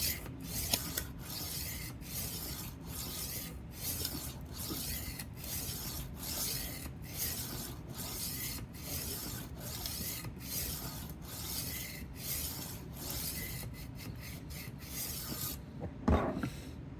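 A 12-inch Henkel chef knife is drawn across a sharpening stone in a long series of even rasping strokes, close and steady in rhythm, with a quicker burst of strokes near the end.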